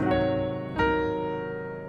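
A sustained keyboard chord rings out, then a second chord, a sus4 chord, is struck and held, fading slowly with no talking.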